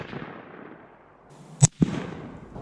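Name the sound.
high-powered rifle shot fired at body armor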